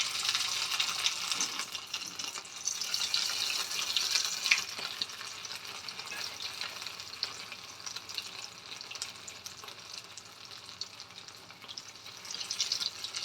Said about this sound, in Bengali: আমি এবার তেলের মধ্যে হালকা করে ফ্রাই করে নেব।